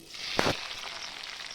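Chopped onions dropped into hot oil in a wok after frying potatoes, a quiet hiss with a brief louder splash-like burst at the start, then a faint steady sizzle.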